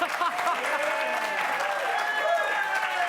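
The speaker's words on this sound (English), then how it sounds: "They're applauding me, not you, Tom." TV talk-show studio audience applauding steadily through the whole moment, with a host's voice speaking over the clapping.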